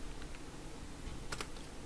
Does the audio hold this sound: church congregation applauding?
no